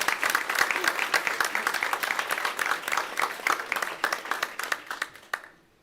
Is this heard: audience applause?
yes